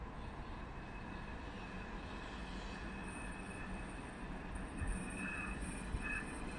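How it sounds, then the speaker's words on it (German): A BR 103 electric locomotive pulling into Köln-Messe/Deutz station, heard as a steady rolling rumble with wheel noise and faint high squeals, loud and continuous throughout. "Dann haben wir Einfahrt BR 103."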